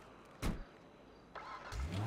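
A car engine turns over and catches, with a short sharp burst followed by a rising mechanical hum that settles into a building idle, close by and with no speech over it.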